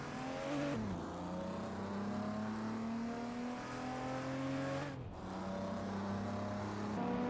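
Sports cars in a racing video game launch from the start at Tor Poznan, their engines roaring loudly. Pitch climbs steadily through the gears with two clear upshift dips, and there is no talk.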